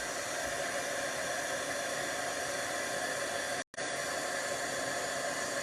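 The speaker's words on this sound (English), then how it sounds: "Now I'm going to turn my heat tool on, let that heat up a little bit." A heat tool warms puff paint on vellum, blowing a loud, steady airy whoosh that runs almost without pause, with one brief cut-out near the end.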